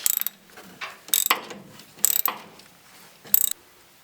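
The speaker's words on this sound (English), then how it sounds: "ratchet these things off." Four quick bursts of ratchet clicking as shock absorber mounting bolts are removed from a truck being prepped for drag racing, close and crisp with brief pauses between, no talking.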